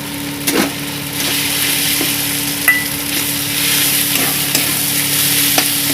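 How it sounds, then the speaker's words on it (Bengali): Chicken paste for pointed gourd dolma is stirred into fried onion, ginger and garlic in a pan. A steady close sizzle runs throughout, with occasional knocks and scrapes of the spoon and no talking. "দিয়ে ভালো করে কষিয়ে নেব দেখুন চিকেনের পেস্টটা দিয়ে এইভাবে নাড়িয়ে নিয়েছি"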